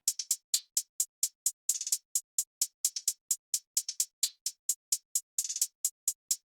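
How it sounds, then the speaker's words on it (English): Hi-hats built from a sampled loop layered with straight sixteenth-note hats, a crisp, dry, evenly ticking pattern with occasional quick rolls, played alone and fairly quiet. "The hi-hat is a combination of a splice loop and some straight 16 hi-hats,"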